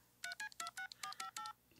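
Telephone keypad dialing tones from Family Guy, a quick run of about ten clean electronic beeps in an uneven rhythm, loud and alone.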